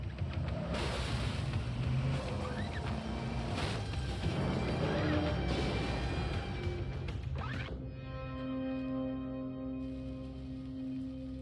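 A truck crashes in the inFamous video game: loud churning impact and scraping noise for several seconds, then a sudden cut to steadier sustained tones as the wreck settles, with no clear speech.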